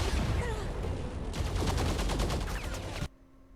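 Rapid automatic gunfire from a video game rattles loudly in dense bursts for about three seconds, then cuts off sharply to near silence.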